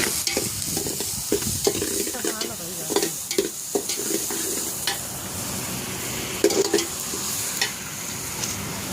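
Bay leaves frying in hot oil for chana masala for a large batch, a steady close sizzle with a spoon scraping and stirring the pan in repeated strokes throughout.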